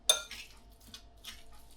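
A spoon scrapes and clinks in a bowl while vegetable spring roll filling is mixed together, a few soft close stirring strokes after an initial sharp tap.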